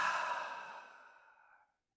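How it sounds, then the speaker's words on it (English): A big, soft exhale during a guided heart-centered breathing exercise, one long airy sigh that starts close and fades away gradually into silence. "big breath out."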